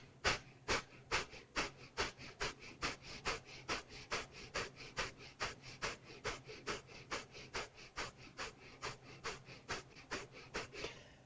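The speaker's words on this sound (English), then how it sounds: "And again, breath of fire." Breath of fire yoga breathing: quick, forceful nasal exhalations repeat in an even rhythm, about three per second, close and continuous with no talking.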